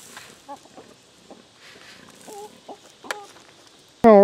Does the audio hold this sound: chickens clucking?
yes